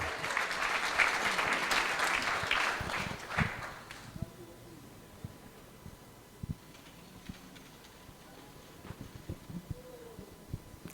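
A temple audience at a Sunday love feast bursts into warm applause that lasts about four seconds, then quiets into room noise with scattered footsteps and small knocks.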